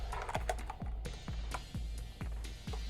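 Typing on a budget Redragon K551 mechanical keyboard with loud, clicky blue switches: a steady run of about six distinct keystrokes, close and fairly loud, with no talking.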